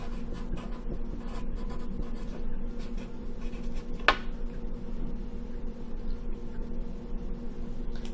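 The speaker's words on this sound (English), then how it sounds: "So I'm going to write this problem down on my paper." Pen or pencil scratching on paper while an equation is written out, a soft steady scribbling rasp under a constant background hum, close and quiet, with one brief sharp click midway.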